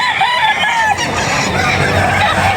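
A Sweater breed rooster crows up close at a gamefowl market in Bocaue, Bulacan, one loud, drawn-out crow filling the short stretch over a background of other birds.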